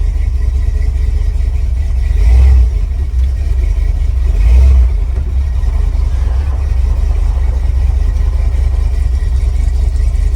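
An abandoned Ford F-250 pickup's old engine runs steadily as the truck backs up in reverse, with two brief low surges of power around a constant rumbling drone, no voices.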